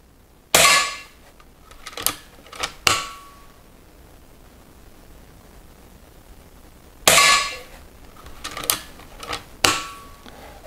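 A Weihrauch HW 100 S air rifle firing lead-free pellets, heard as two separate volleys of sharp, loud cracks a few seconds apart, each followed by short metallic clicks.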